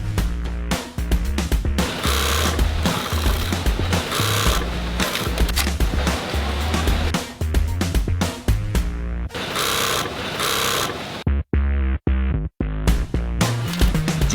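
A factory sewing machine stitches a jeans coin pocket in fast, loud mechanical bursts, a buzzing rattle running several seconds at a time with brief pauses between seams.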